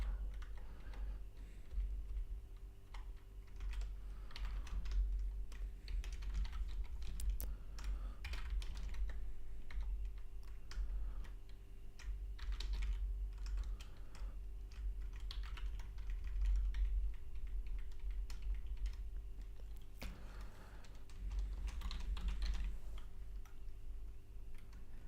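Computer keyboard typing at a desk during game development work, a soft, quiet run of irregular key clicks that comes in bursts with brief pauses, with no talk over it.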